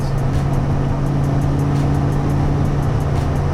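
Steady interior drone of a 1992 Ford Mustang Foxbody coupe with 3.73 rear gears, cruising at 70 mph in fifth gear near 1800–2000 RPM; a constant low engine hum and road rumble with no talk.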